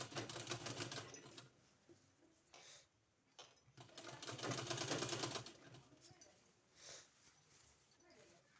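A sewing machine stitching a suit collar, sewn from the reverse side, runs in short bursts of rapid whirring with pauses between them. Someone talks quietly throughout.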